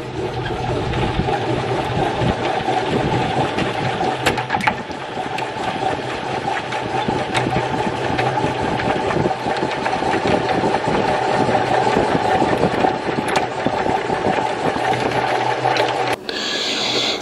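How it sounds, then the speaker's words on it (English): An old three-frame hand-crank honey extractor spins with a loud, steady mechanical whir and rattle, sustained without a break and stopping just before the end. "we put in our old 3-frame hand crank extractor"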